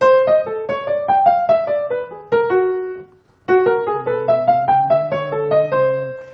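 A jazzy melody built on a twelve-tone row, quick, detached pitched notes in a swinging rhythm, pausing briefly before resuming over a lower line of sustained notes.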